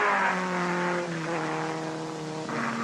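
An MG race car accelerates hard through its gears at an endurance race under the hot Florida sun, with co-driver Gus Ehrman driving. Its engine note rises loud and close, then drops as it shifts and climbs again, with a hint of tire squeal.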